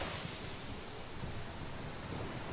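Faint, steady wash of ocean waves breaking on a sandy shore at night, a soft continuous hiss of surf heard alone with no voices.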